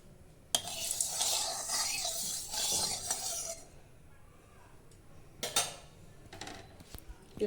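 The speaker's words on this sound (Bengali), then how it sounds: "আমি তেল ঢেলে দিচ্ছি।" Oil poured into a hot kadai (wok) for a gondhoraj fish curry sets off a loud, bright sizzle and clatter for about three seconds, then it eases to a quieter hiss with a few sharp utensil clinks near the end.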